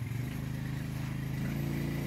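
A motorcycle engine runs with a steady, throbbing low drone as the bike rides off, loud and continuous with a faint rise in pitch toward the end.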